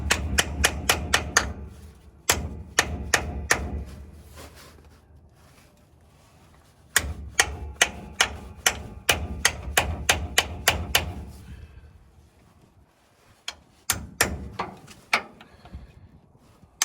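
Hammer taps on a 1957 GM rear differential during a teardown under a 1936 Chevy coupe: bursts of sharp metallic strikes in quick runs, clustered in three volleys, fairly close and loud, with quiet gaps between.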